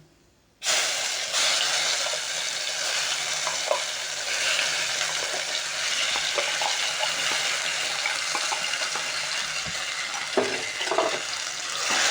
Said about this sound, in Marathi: आता हे वाटण घालून घ्यायचं आपल्याला